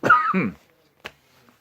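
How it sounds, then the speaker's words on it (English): A single short cough, close and sharp, comes right after a brief muffled vocal sound, then quiet. "I'm just trying to protect you when I cough."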